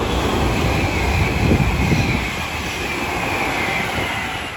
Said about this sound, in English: Soon to pass through now will be Avanti West Coast service going from London Euston to Manchester Piccadilly.